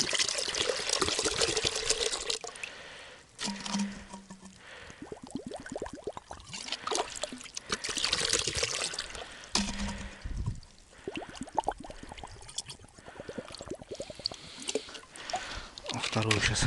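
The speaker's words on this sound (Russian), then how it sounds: "Водички добавим." Water splashes and gurgles as it is poured into a bucket of live bait fish on an ice-fishing outing, a continuous close pour with a voice talking over it at times.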